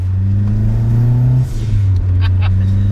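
A Renault 5 GT Turbo hot hatch drives on the road, its engine droning loud and steady from inside the cabin, with a shift in pitch midway as the revs change.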